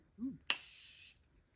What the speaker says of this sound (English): we are going to use a little setting spray